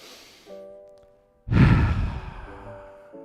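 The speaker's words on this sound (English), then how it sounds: "Let's take 3 big deep breaths in." Deep breathing during a Pilates abs and core workout: one long, loud inhale-exhale sigh close to the microphone, with quiet tonal background sound before and after.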